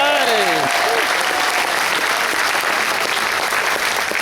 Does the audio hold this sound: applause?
yes